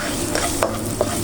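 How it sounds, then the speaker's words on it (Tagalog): Onions are stirred in hot oil, a brief burst of steady sizzling with a couple of soft spatula scrapes, close up. "Haluin lang natin."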